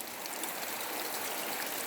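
Water runs steadily down the side of an outdoor pipe on a farm, a continuous close rushing and trickling hiss with no pauses.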